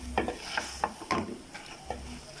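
White beans (lobia) being stirred and fried in masala in a pan: a spoon scrapes through the mixture in several uneven strokes over a soft, steady sizzle, close and fairly quiet.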